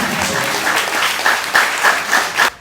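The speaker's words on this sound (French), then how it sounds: "Et quand on est fier, on fait quoi? On applaudit." Audience applause at a ceremony handing out certificates and kits for a youth employment project, a steady dense clapping that swells in several waves and cuts off abruptly near the end.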